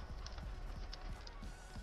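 Horses galloping in the Fall Guys video game, a steady stream of low thudding hoof beats in quick rhythm over a constant game background bed, no talk.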